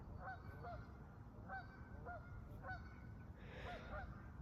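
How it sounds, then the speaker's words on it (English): Geese honk outdoors after rain, faint and distant, their calls repeating in short double honks roughly every second over a soft background hush. "You can probably hear the geese."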